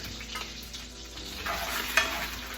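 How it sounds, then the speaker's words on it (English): Steady frying sizzle of butter melting in a pan, soft and continuous, with a few light clinks of a utensil. "I have butter that's melting and sizzling away"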